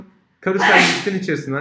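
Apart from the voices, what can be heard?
sneeze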